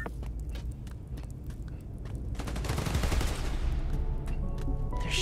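Gunfire erupts in Marvel's Spider-Man: Miles Morales on PS5, rapid automatic bursts that build into a heavier, denser volley partway through.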